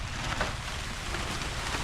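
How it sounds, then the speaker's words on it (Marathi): Steady broadband hiss of rain falling outdoors in green hill country, continuous and even throughout, with no voices. "पावसाला सुरुवात झाली ते बघा त्या डोंगरातून येतो पाऊस"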